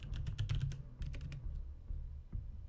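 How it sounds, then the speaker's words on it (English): Quick bursts of typing on a computer keyboard, close and fairly quiet. The keys clatter in rapid clusters with short pauses between them. "I'm currently typing up lists."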